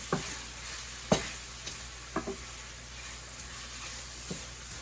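Onions and mushrooms sizzle softly in a pan for a creamy risotto, a steady faint frying hiss broken by a few sharp scrapes and clicks of stirring, with no talking.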